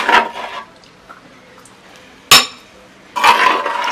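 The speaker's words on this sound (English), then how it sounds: "So now I'm putting it into my bowl." A meat mixture is scooped into a bowl for steaming in a village kitchen, giving a few soft wet plops and clinks of utensil on bowl, separated by quiet gaps.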